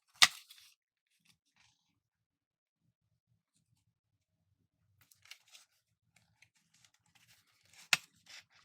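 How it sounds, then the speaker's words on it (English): Packaging being handled while a Logitech Brio webcam is unboxed: two sharp crinkling, snipping bursts near the start and end, with faint scattered rustles and small taps in between, close and otherwise quiet. "I'm gonna take it out of the packaging now"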